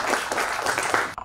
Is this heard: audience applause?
yes